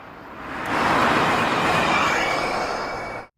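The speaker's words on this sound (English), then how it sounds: "And a car that uses hydrogen fuel cells sounds like this." A hydrogen fuel cell car passes with a smooth, rushing whoosh that swells in, holds steady with a faint high whine, then cuts off abruptly.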